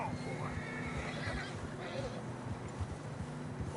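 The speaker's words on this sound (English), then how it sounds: "Horses are struggling." Horses whinny and snort while trudging through deep fresh snow in Red Dead Redemption 2, several neighs over muffled hoof and movement sounds, close and fairly quiet.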